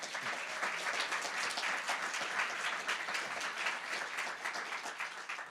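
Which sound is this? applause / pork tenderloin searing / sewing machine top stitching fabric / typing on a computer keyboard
applause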